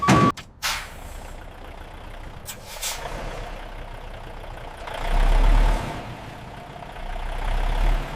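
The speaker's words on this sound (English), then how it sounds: "Trucks are leaving the factory, heading toward different destinations" Trucks pulling away from a wine factory on dispatch, a sharp air-brake hiss at the start followed by a low idling diesel rumble that swells as an engine revs up and moves off.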